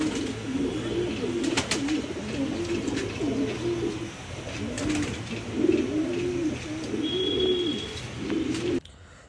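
Pigeons coo repeatedly in soft, rolling phrases, close by, with occasional chirps and light rustling in the background.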